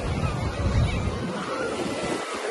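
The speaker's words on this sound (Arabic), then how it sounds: "الموج عالي شوية" High sea waves on Alexandria beach: steady crashing surf and rushing water noise under strong wind buffeting the microphone, continuous and fairly loud throughout.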